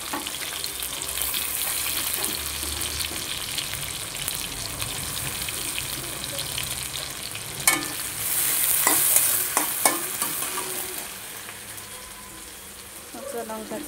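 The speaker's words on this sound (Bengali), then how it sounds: "পেঁয়াজটাকে লাল রঙ করে ভেজে নেব তেলেতে" Chopped onion fries in oil in a pan, a steady sizzling hiss running throughout with a few sharp clinks and stirring knocks near the end.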